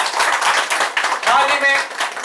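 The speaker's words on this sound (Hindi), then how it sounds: "मोहतरम शमीम खान साहब के लिए जोरदार तालियां" An audience claps loudly and steadily for Shamim Khan at an Urdu Ghar felicitation event, a dense sustained applause with voices mixed in.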